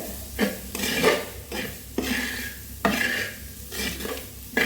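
Beetroot stir-fry being stirred in a pan, with a spatula scraping and tossing the pieces in repeated strokes about once a second over a light sizzle, close and clear with no voices.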